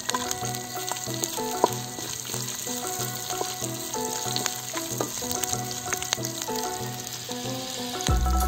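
Green chilies and cashews crackle in hot oil as a tempering for village-style curd rice, a steady close sizzle running throughout over a tonal background.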